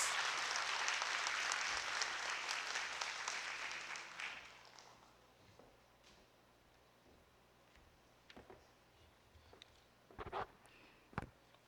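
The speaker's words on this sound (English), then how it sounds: "Let's give her a round of applause." Audience applause at a university lecture marking a faculty foundation anniversary, a dense burst of clapping that fades over about four seconds, followed by quiet room tone with a few scattered knocks and taps.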